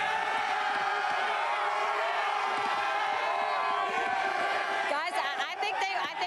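UConn football fans yell and cheer in a stadium during the 2007 game against Rutgers, a dense continuous crowd roar with a commentator talking over it.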